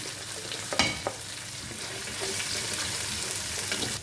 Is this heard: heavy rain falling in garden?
no